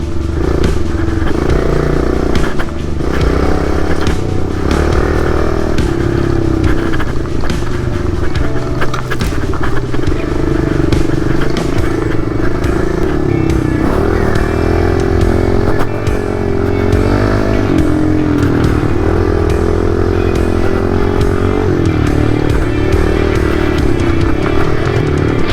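A Kawasaki KLX110 pit bike ridden hard along a bush track, its small engine buzzing loud and close throughout with constant rises and falls in revs, plus clattering and rattling over rough ground.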